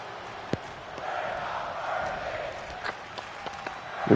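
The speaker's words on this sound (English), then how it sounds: "The crowd chanting, we're not worthy." A video game arena crowd in WWE 2K25 chants and roars as a steady, dense wall of noise, with a few sharp thuds from the ring cutting through.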